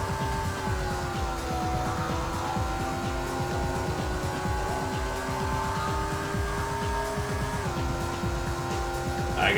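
A race car engine in a racing video game drones steadily with layered tonal whine, the pitch shifting slightly as gears change, continuous and fairly loud from start to end.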